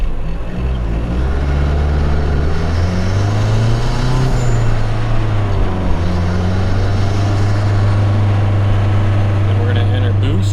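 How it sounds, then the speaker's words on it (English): 2012 Mazdaspeed 3 with a COBB intake and turbo inlet drawing air under boost, a loud, steady low engine drone with a rising intake rush through most of the stretch, heard from inside the car. "we can bring it up into boost and get some sweet intake sounds"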